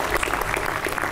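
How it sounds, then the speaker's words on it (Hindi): Children clapping together in applause, a dense continuous patter of many hands at moderate loudness throughout, with no break. "इनके लिए विशेष ताली बजाओ भैया।"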